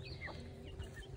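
A rooster on a small farm, walked through in the fall, lets out a few quiet clucks against a steady outdoor background hum.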